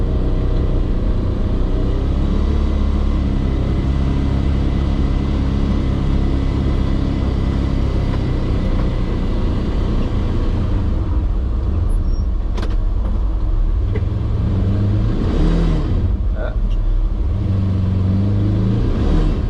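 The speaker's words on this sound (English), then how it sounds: "So we'll drive on down the road, have a look around." A car drives steadily along neighborhood roads, its engine a continuous mid-range hum with tire and road noise throughout, a few light shifts in pitch as it slows and accelerates near the end.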